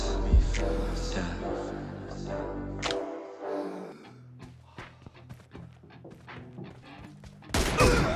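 M24 sniper rifle fire in the mobile battle royale game PUBG Mobile during a one-on-one team deathmatch, sharp gunshot bursts and impacts layered over loud rap music, with a final blast near the end.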